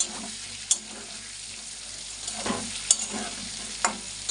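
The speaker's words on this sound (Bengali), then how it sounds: "পটল ভাজা হয়ে গেছে একটু হলুদ দিয়ে দিলাম" Pointed gourd frying in a pan with turmeric, hissing with a constant bright sizzle while a spatula stirs it, producing periodic scraping sweeps and a few sharp clicks against the pan, close and steady.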